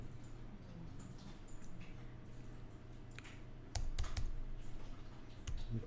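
A computer keyboard typed on while entering table data, with a few sharp keystroke clicks clustered near the end over a steady low room hum, no voices.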